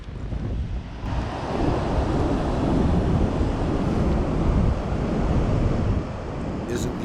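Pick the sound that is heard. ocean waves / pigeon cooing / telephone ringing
ocean waves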